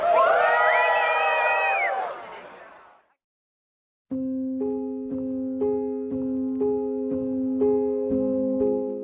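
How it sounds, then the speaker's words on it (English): Crowd of Cleveland Clinic Lerner College of Medicine Class of 2025 graduates cheering and whooping loudly for about two and a half seconds, fading to silence, then steady musical notes begin. "One more cheer, everybody!"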